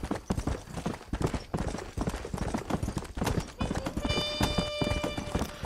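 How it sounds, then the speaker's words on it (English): Horse hooves galloping in the Western video game Red Dead Redemption, a rapid, loud, continuous clip-clop rhythm close by, with a brief tonal whine near the end and no talk. "I wish the horse was faster"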